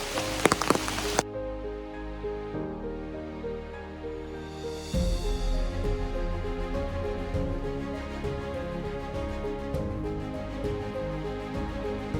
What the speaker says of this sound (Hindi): तो गाइस यहाँ अभी बारिश हो रही है काफ़ी बढ़िया है